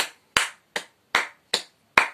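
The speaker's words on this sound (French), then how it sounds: "je pense que vous pouvez vous applaudir." Six separate hand claps at a slow, slightly uneven pace, crisp and close, each ringing out alone in an otherwise quiet room.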